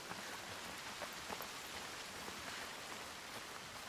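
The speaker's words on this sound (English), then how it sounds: "The rain never stops." Steady rain pours down in a video game, a dense continuous hiss of drops with no pauses and no voices over it.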